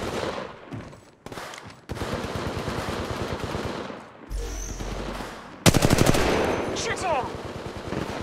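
Gunfire in the mobile battle royale game Apex Legends Mobile during a ranked match: rapid automatic bursts crackle close and loud, broken by brief pauses, with reload and gear clatter and other effects in between.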